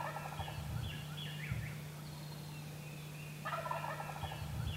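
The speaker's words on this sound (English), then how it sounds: "How exciting to be sitting there listening to a gobbler, gobbling like he was" A wild turkey gobbler gobbles in the woods, two rattling gobble bursts at moderate distance separated by a pause, over a steady low hum and faint outdoor background.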